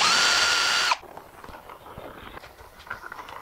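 A 3/16 inch Montana brand brad point bit drills through the workpiece for a circle-cutting jig, a loud, steady power-drill whir lasting about a second before stopping abruptly, leaving faint quiet handling noise.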